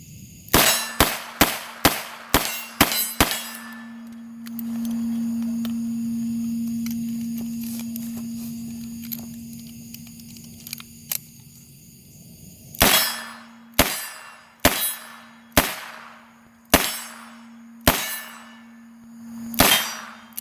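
Empty revolver casings pushed out with the extractor rod clink and bounce onto a hard floor in quick bright metallic clangs, then a faint ringing hum, then more scattered clinks, close and crisp with no talk.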